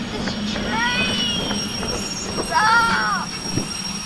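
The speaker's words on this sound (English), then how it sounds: "let's stop this train!" Train wheels squeal in rising and falling screeches over a low rumble, with faint clatter, as a DRG Class 1 locomotive brakes to a stop in Derail Valley.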